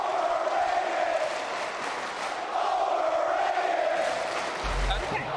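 Crowd roars and cheers steadily throughout at a Call of Duty League 2022 esports event, a continuous loud wash of voices under an arena, with a brief quieter dip midway.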